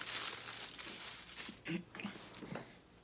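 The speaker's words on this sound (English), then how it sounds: "I always reuse these plastic bags that they provide" A reused plastic shipping bag crinkles and rustles as it is handled at a table, a steady close crackling with a few sharper crunches near the end, no talk.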